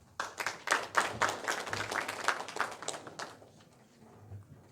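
A small audience at a Hwaseong citizens' regional meeting claps for a presenter, a fairly quiet cluster of individual hand claps that peaks early and dies away after about three seconds.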